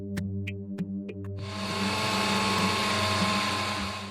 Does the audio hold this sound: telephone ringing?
no